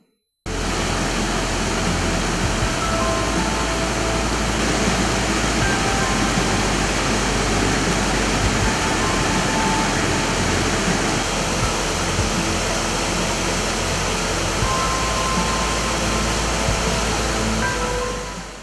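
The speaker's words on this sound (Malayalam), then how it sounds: "ഒഴൂർ പഞ്ചായത്തിലെ കരിങ്കപ്പാറയിലാണ് മനസ്സിനെ കുളിരണിയിച്ചുള്ള ഈ വെള്ളച്ചാട്ടം സ്ഥിതി ചെയ്യുന്നത്" The Karinkappara waterfall at Ozhur in Malappuram roars with a steady, loud, unbroken rush of falling water, close by and with no voices over it.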